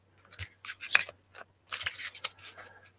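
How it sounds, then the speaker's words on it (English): Soft, close papery riffling and sliding as tarot cards are shuffled in a few quick bursts, quiet with brief pauses. "I'm shuffling these cards."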